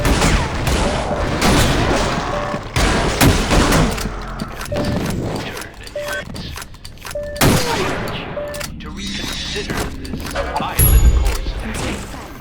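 Shotgun blasts from a first-person shooter video game, a series of loud booming shots at irregular intervals with mechanical reload clacks between them, close and punchy.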